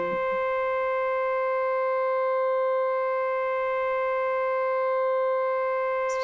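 A Moog Matriarch synthesizer with oscillator 1 sounding alone, giving a steady, sustained pure tone with bright harmonics. It holds unbroken at an even level throughout, with only a faint blip at the start and end.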